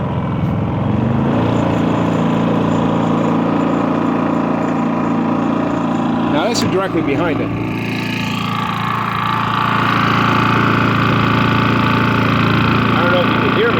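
A 2023 Harbor Freight 3500-watt super quiet generator runs close by with a steady low engine hum, its tone shifting briefly midway, while someone talks over it.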